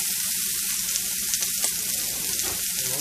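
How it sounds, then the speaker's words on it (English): Celery, tomatoes, onions and jalapenos sauteing in a piping hot pan, a steady close crackling sizzle with faint stirring scrapes, no talk. "we're going to let those saute for a moment"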